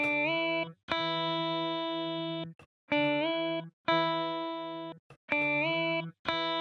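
An electric guitar in a chill lo-fi track plays bright sustained chords with a ping-pong delay that bounces back and forth and reverb, trailing off between phrases.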